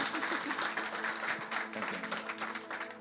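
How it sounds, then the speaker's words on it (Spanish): Quiet applause from a church audience sounds with uneven, fluttering claps, while sustained music tones sit underneath at low volume. "Denle un aplauso si"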